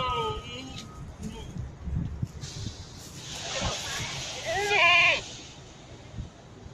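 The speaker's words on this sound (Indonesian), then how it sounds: "Contoh-contoh kambing kurban." Sacrificial goats offered for sale for Qurban in West Jakarta bleat once, a short wavering bleat heard clearly over a steady outdoor hiss and rustle of the pen.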